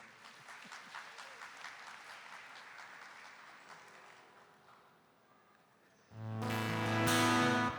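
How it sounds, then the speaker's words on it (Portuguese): Audience applause at a music and prayer gathering, a spread of clapping that fades over several seconds before a loud sustained musical tone cuts in. "vamos dar uma salva de palmas para ela"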